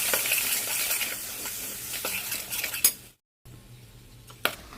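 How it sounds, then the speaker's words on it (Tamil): Masala paste with onions is sautéed in a pan for fish head curry, with a soft sizzle under repeated metal spoon scrapes and clinks, close and fairly quiet, a brief gap near the end. "சேர்த்துட்டு நல்லா வதக்கலாம்."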